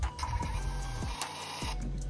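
A printer runs off a voucher in a short mechanical burst of whirring, with rapid ticks and a few sharp clicks as the paper feeds, close and clear with no voices.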